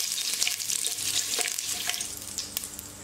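Green chilies sautéing in a hot pan with peppercorns, cardamom and a pinch of fennel seeds for egg mandi, giving a steady close sizzle with occasional stirring clicks throughout.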